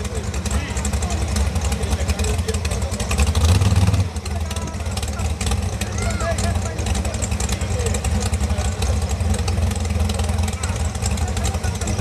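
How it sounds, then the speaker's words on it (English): A race car doing a burnout at an outdoor motorsport event, a loud continuous engine roar with tire noise, surging briefly before easing to a steady drone over crowd ambience. "watch out, she's gonna make another burnout"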